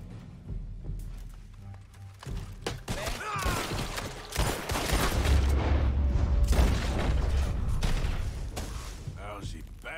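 Gunfire in Red Dead Redemption 2, with booming shots and a rattling burst, loud and close, mixed with heavy rumbling and talking.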